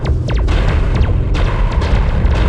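Explosions striking a launch bay in the space combat game Shock Wave: Invasion Earth on 3DO, loud repeated booms and blasts with sharp whooshing laser-like sweeps over a constant rumble.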